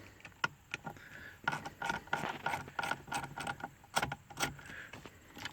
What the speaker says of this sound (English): there's 2 more smaller torx bolts, which is going to be a T20 torx bit. We're going to remove those